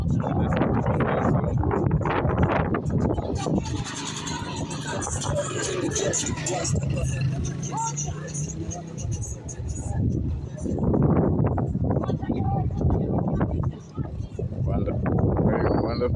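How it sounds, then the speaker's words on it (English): Gusty hilltop wind over the Nguuni community in Vikwatani pounds the microphone with loud low rumble, easing briefly midway, while a voice speaks over it. "It's so windy here. I don't think our audio will be okay."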